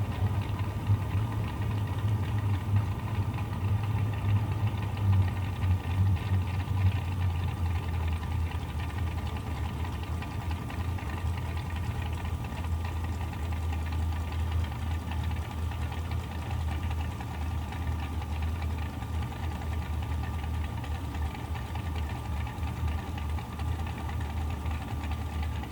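A Z28 Camaro drag car sits at the start line of a drag strip, its engine rumbling steadily and loud with a lumpy, knocking idle that holds without revving for the whole stretch.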